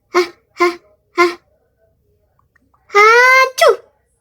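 Cartoonish sneezes from characters in the Toca Boca video game, three short bursts followed by a longer drawn-out sneeze, loud and close with no talk.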